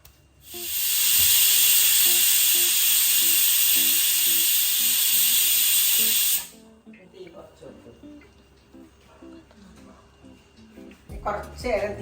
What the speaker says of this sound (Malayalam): ഒരു വിസിൽ വന്നേ, ഒരു വിസിലും കൂടി വരട്ടെ